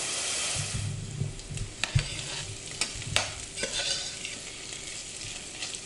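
Onions and celery sauté in olive oil in a soup pot for minestrone, with a steady close sizzle broken by occasional clicks and scrapes of stirring.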